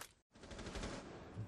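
Rapid automatic gunfire rattles from the video game Rainbow Six Siege, a short burst cut by a brief gap and then a dense stream of shots, loud and close.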